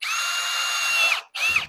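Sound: power drill drilling holes

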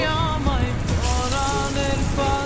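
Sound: onions frying in oil for lentil peyaju

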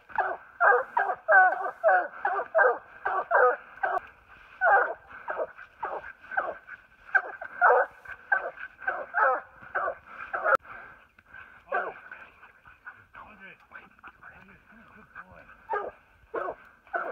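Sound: hunting dogs barking at a treed mountain lion

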